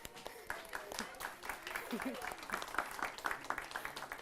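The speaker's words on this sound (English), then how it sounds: "Clap it up for him" An audience at a storytelling event claps and cheers in a lively, continuous burst, with voices and shouts blending into the applause.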